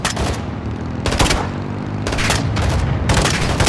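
Gunfire in the Call of Duty: Modern Warfare 2 campaign, loud close bursts of rapid automatic shots and booming blasts in several clusters, with little pause between them.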